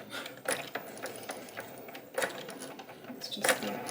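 A Cricut cutting machine drawing letters with a pen, giving faint, uneven mechanical clicking and ratcheting with a few sharper ticks and whirs, close and alone.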